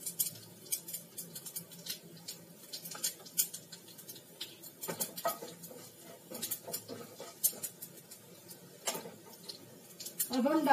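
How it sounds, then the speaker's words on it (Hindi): Spices sizzle and crackle in hot oil while semolina discs are being made, a faint scattered popping patter close by, with someone talking over it. "देखिए आप सुन सकते हैं तड़कना शुरू हो गया ये।"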